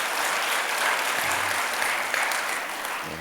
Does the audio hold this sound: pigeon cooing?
no